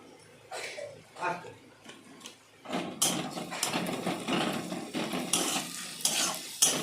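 Onions with ginger garlic paste and cumin powder are sautéed in a pan, with scraping spatula strokes and a light sizzle growing busier after a quieter start where a voice is briefly heard.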